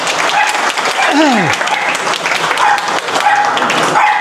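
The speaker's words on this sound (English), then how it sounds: "can we get another round of applause for the Blade Runners?" Loud, sustained applause from a crowd at a talk, dense clapping with a brief voice-like swoop and a few whistles or shouts mixed in.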